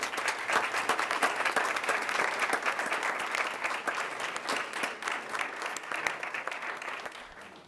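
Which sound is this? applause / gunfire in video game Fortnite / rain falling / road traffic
applause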